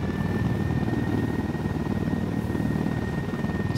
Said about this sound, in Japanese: ユニダットのヘリが巡回してる、気をつけろ。